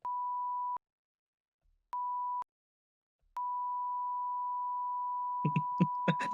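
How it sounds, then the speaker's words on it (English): A telephone out-of-service tone plays as a steady pure beep, first in two short bursts and then one long sustained tone, with a few brief rustles and clicks near the end. "Sorry, but the number you have dialed is out of service."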